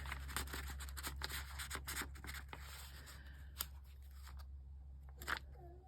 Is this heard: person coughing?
no